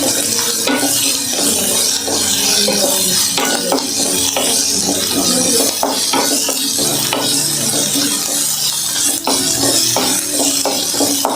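Chopped onions sautéing in a pan for a vegetable curry, a loud steady sizzle broken by repeated scraping strokes of a stirring spoon against the pan, close and continuous.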